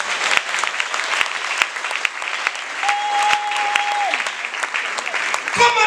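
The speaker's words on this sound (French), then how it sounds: "Au nom de Jésus, acclame le Seigneur." A church congregation applauds and acclaims the Lord, with steady dense clapping and a little cheering filling the room throughout, while a sustained tone briefly rings out midway.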